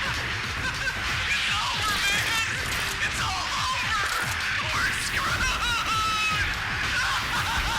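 Ivy plant monsters in Resident Evil: The Umbrella Chronicles give off repeated warbling shrieks and squeals over a dense, crashing game soundscape of thuds and impacts, continuous and fairly loud.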